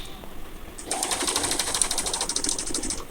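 A sewing machine stitches a fabric school belt, starting after a quiet moment and running in a steady, close, fairly soft mechanical patter.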